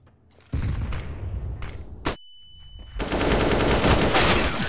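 Gunfire in the video game CS:GO: a sustained automatic burst of close, loud shots, a brief gap with a thud and a held tone, then another heavy volley of rapid fire.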